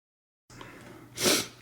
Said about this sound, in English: I'm gonna sneeze again before I finish off here.